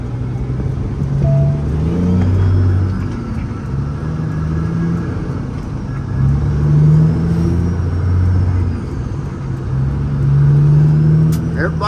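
Cars roll past on a summer road, each pass swelling as a low rumbling whoosh in rising and falling waves, loud and close, with no talk over the traffic.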